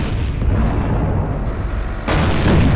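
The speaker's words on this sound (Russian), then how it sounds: "Зенитки все долбят." Anti-aircraft guns fire in a World War II strategy video game battle near Vitebsk, continuous heavy rumbling gunfire with a dense, booming texture, getting louder and sharper near the end.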